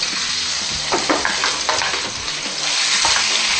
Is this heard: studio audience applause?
no